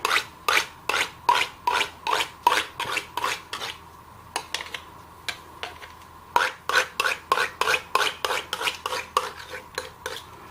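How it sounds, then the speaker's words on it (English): A knife trims pastry edges against a plate, a rapid rhythmic series of close rasping scrapes in two runs separated by a brief pause, each stroke sharp and distinct, with no voices. "Take a knife, trim the edges"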